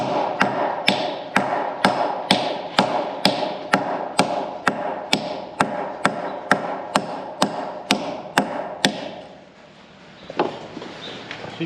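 A hammer strikes a metal bolt in a steady rhythm, around twenty sharp ringing blows close up, then stops, followed by one last knock.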